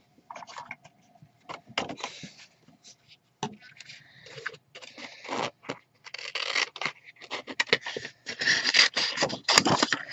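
Scissors cutting through a sheet of patterned paper, close and crisp, with irregular bursts of snipping and scraping that grow denser and louder toward the end.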